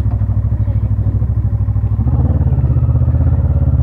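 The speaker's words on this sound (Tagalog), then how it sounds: "ganito ang tamang pagpapainit ng motor ng modern big bikes bago mag-ride" A modern big-bike motorcycle engine warming up before a ride, idling loud and close with a steady pulsing rumble that thickens slightly partway through and carries on without a break.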